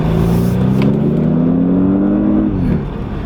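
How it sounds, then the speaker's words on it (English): Audi S8 accelerating on a highway, a loud steady engine drone rising smoothly in pitch for a couple of seconds before easing off, heard from inside the car with no talking. "We're going to go on the highway here and do a little acceleration."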